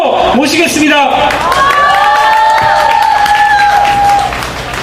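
Applause and cheering greet a speaker at an evening rally against the US free trade agreement, a loud continuous wash of clapping with shouts and sustained whistle-like tones rising over the crowd.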